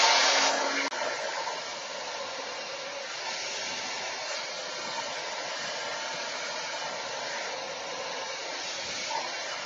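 A hair dryer on its highest heat setting blows steadily through hair, a loud, continuous close-up airflow hiss that runs unbroken for the whole stretch without any talk.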